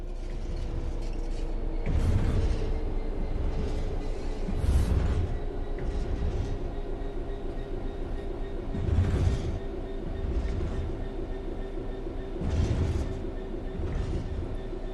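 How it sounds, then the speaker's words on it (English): A diesel locomotive in Train Sim World 4 coasts on level track with the throttle closed, giving a steady low rumble and hum with periodic louder rail clatter swells about every few seconds, with no talking. "The train will then coast on level ground, and the train will only slow down very gradually."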